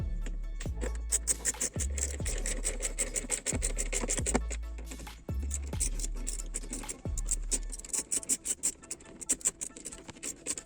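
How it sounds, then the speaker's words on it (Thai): A screwdriver tightens the rear screw while a USB charger is installed in a second-generation Toyota Vios, producing a repeated rhythmic ratcheting scratch with regular turns, close and clear, ending in quicker ticks. "เราจะทำการขันเจ้าตัว ด้านหลังนี้นะครับ"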